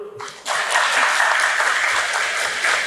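An audience at a seminar on mask dance (tari topeng) breaks into steady, full applause after a brief quieter moment, the clapping holding evenly to the end.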